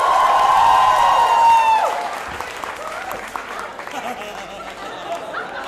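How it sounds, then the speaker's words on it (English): A stand-up comedy audience applauds and cheers, a loud crowd wash that drops after about two seconds and continues more quietly, with the comedian's voice over it at the start. "give him a round of applause"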